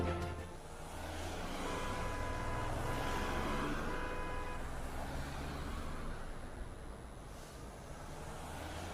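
Road traffic in Ibadan rumbles steadily, with passing cars and trucks forming a continuous loud drone and a faint horn toot.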